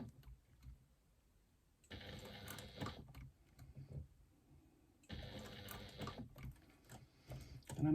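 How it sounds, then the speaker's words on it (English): A sewing machine top-stitches slowly around the curve of a wristlet connector, close to the edge, in two separate runs of steady mechanical whirring with quiet pauses between them. "top stitch around the outside of this connector, going nice and slowly"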